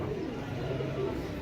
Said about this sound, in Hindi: देखें ये कबूतर